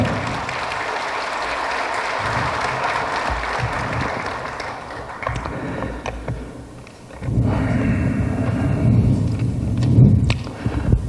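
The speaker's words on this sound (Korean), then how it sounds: "큰 박수 부탁드리겠습니다" An audience in a memorial hall applauds at an acceptance speech, with a few seconds of dense, loud clapping that thins out, followed by scattered rustling and a louder stretch of mixed crowd noise.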